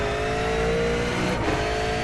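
A V8 Supercar in iRacing at the Zolder circuit, its engine roaring loud and close at high revs, continuous with a slight dip as it shifts up through the gears, no talk.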